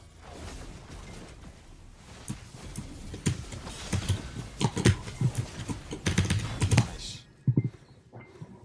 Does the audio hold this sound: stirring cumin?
no